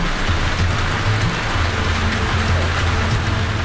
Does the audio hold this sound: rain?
yes